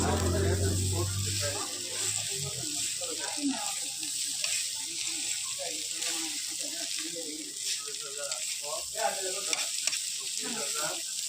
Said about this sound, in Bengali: এবার এই যে লাড়া দিতে হবে।